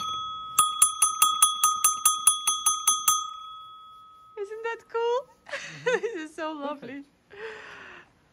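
A bell from a charity shop rung repeatedly, about a dozen bright, evenly spaced metallic strikes with a sustained ringing tone, then fading as people talk and laugh nearby.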